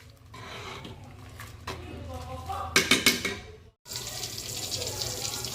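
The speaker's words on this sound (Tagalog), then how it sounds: "So, i-drain na natin to guys." Water from cooked spaghetti pours and splashes into a kitchen sink, a rushing stream that swells briefly then cuts off, followed by running tap water, with a voice speaking faintly at times.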